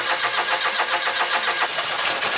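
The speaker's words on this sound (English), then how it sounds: "And then we're going to fire this machine up." A John Deere HPX 4x4 utility vehicle's diesel engine running steady and close, a loud continuous mechanical drone with a fast even chatter and no talk over it.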